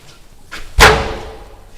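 A door slams hard once, a sharp loud impact that rings out and fades over about a second, preceded by faint shuffling in a quiet room.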